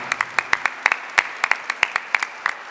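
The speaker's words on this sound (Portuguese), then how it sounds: "Vamos aplaudir o Santo Evangelho proclamado." Mass congregation clapping in a steady, rhythmic beat to honor the Gospel reading, sharp regular claps close and loud over a short stretch.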